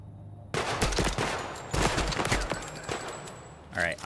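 Rapid bursts of gunfire in the shooter game Project Silverfish, a dense rattle of repeated shots that starts abruptly and stays loud, with a voice speaking briefly near the end.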